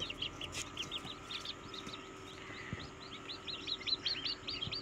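Day-old ducklings kept indoors after incubator hatching peep in a rapid, high chorus of repeated chirps, fairly faint over a steady background hum.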